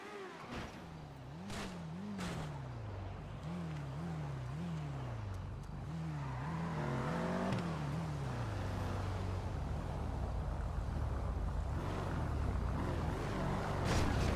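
A 2019 Ford Mustang GT500 engine in a roleplay video game. The engine revs in a repeated rising and falling pattern, then settles into a steady drone that builds gradually, heard close with no talk.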